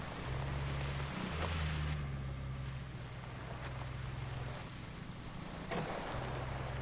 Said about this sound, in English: Look, all that water coming off the tyres.